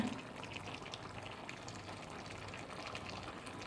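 Steady watery pouring sound runs throughout, a continuous splashing stream of rinse water poured into a pot of chicken curry, fairly close with no speech.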